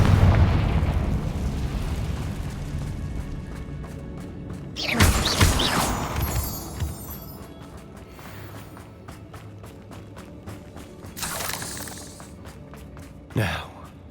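Confringo fire-spell blasts in the video game Hogwarts Legacy go off as three booming explosions, a big one midway and smaller bursts later, each with a crackling tail over a low game backdrop.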